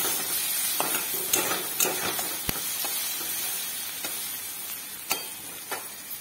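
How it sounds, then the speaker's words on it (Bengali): Food frying in a pan with turmeric, crackling and sizzling steadily throughout with scattered sharp stirring clicks and scrapes, close and moderately loud, no voices. "লাল লাল করে ভাজা হয়ে যাবে যখন, তখন এটা দিয়ে দিলাম।"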